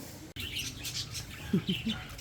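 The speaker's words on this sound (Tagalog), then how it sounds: "Yung mga parakeets, mga alaga niyang ibon." Pet parakeets kept in a small backyard aviary chirp in brief, bright bursts over a busy outdoor background, with a few louder calls standing out near the end.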